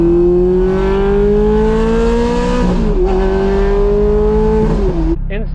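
Ferrari F430 with a 4.3 liter naturally aspirated V8 and Fabspeed exhaust, loud and close as the revs climb smoothly, dip briefly during a shift, rise again, then cut off sharply near the end.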